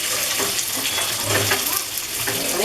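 Onion, garlic, ginger, coconut and Byadgi chillies dry-roast in a pan, giving a continuous close, dense crackling hiss with faint stirring scrapes.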